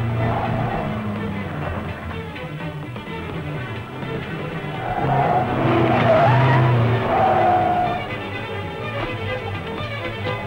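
Car tires skid and squeal through a fast slalom handling test on a proving ground, a continuous loud screech with engine noise that swells in the middle of the run and then eases off.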